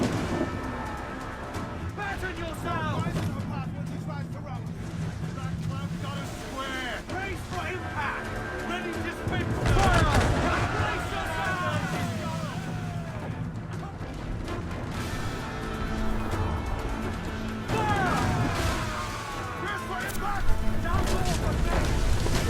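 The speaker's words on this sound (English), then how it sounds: "So I'm just gonna do the heavy shot on you. Also do the mortar on him." Heavy ship cannon shots and mortar fire boom intermittently in the naval combat of the video game Assassin's Creed IV, landing as dull crashes beneath nearly continuous talking.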